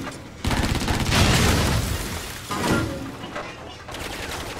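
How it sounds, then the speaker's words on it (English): Heavy machine gun fire and explosive crashes in the action video game Stranglehold, loud sustained bursts that surge and ease over a few seconds, with debris shattering in between. "Got me a machine gun. And I'm gonna destroy this."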